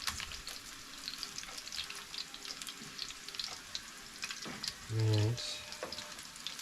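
Potato pancakes frying in a pan at an off-grid cabin, a continuous close sizzle with light crackling, a brief spoken word and a short tonal hum partway through.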